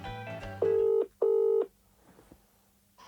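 Two long electronic telephone ring tones sound in quick succession, loud and clean, after a brief burst of dial tones, followed by quiet line noise.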